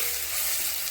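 Fish with potatoes, tomato and spices fry in a pan, producing a loud continuous hissing sizzle for just under a second before cutting off abruptly; no voices.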